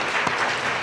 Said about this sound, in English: let's have a round of applause for half hour